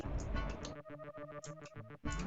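The alien Steltek ship firing in the space combat game Wing Commander Privateer, a rapid string of pulsing tonal bursts in a fast rhythm, fairly loud and with no talk over it.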